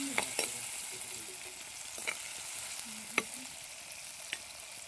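Stemmed curry leaves sizzle in a pan of sautéed onion and tomato for a homestyle sardine curry: a soft, steady frying hiss with a few sharp crackles and pops scattered through, fairly quiet and without talk.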